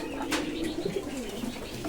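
Soft, repeated pigeon cooing with low throaty notes, steady and fairly close, amid faint background noise.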